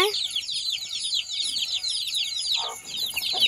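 Chickens cluck and cheep near the coop, a continuous busy chatter of high chirps filling the clip, with a faint low sound underneath.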